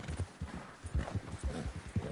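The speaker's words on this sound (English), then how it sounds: "I'm gonna ride the horse like right here, down here" Horse hooves clip-clopping in a steady walking rhythm while riding in the video game Red Dead Redemption 2, clear close hoofbeats that repeat evenly throughout.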